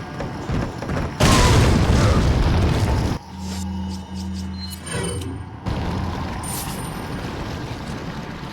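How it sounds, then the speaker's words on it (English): A grenade explosion in Resident Evil 4, one loud booming blast that swells and lingers before the noise drops to a lower rumble with a steady hum. "we're gonna go ahead and switch to our grenade"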